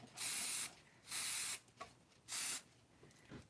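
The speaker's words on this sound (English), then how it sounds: "And then a little spray." Three short hissing bursts of an aerosol spray can onto a wine tumbler, evenly spaced with brief quiet gaps between them, close by.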